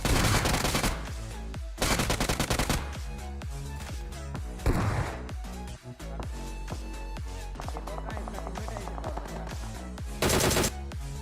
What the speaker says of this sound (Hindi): यहाँ भाई पीछे की तरफ फायरिंग चल रही थी तकड़े वाली